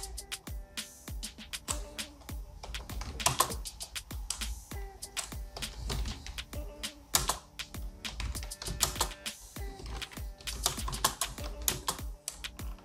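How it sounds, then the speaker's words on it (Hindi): Steady, rapid typing on a computer keyboard, Hindi text entered with Google Input Tools on Windows, with dense close clicks and clacks running continuously without talk. "जहां भी आप टाइप करना चाहते हो गाइस हिंदी में, अब इस तरीके से आप बहुत इजीली टाइप कर सकते हो।"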